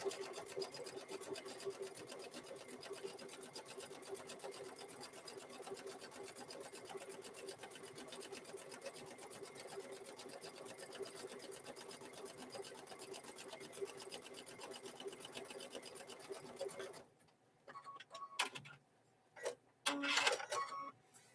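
A sewing machine runs steadily for a long stretch, stitching up the raw edge of fabric for a microwave bowl koozie, a fast even mechanical whir, then stops and leaves a few soft clicks and handling sounds.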